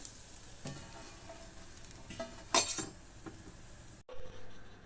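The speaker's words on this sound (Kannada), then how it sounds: "ಇನ್ನೊಂದು ನಿಮಿಷ ಚೆನ್ನಾಗಿ ದೋಸೆನ ಬೇಯಿಸ್ಕೊಳ್ಳೋಣ" A ragi and moong dal dosa cooks on a hot pan, giving a low steady sizzle with scattered scrapes and clinks, plus a brief louder burst of utensil noise midway before the sound cuts out.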